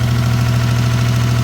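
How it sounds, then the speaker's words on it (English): A car engine idles steadily with an exhaust leak along the pipe, giving a loud, continuous low rumble with a faint rhythmic ticking pulse and no voices. "There is an exhaust leak along the pipe."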